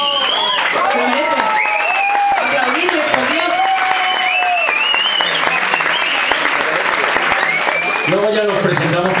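A concert audience at Sala El Sol applauding loudly and without a break, dense clapping under cheers and shouts, with a voice talking over the crowd.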